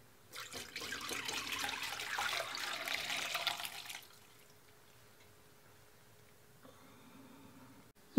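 Hot rendered lard poured through a traditional coarse sieve, heard as a steady close splashing pour lasting about four seconds that then stops, leaving quiet room sound with faint clatter.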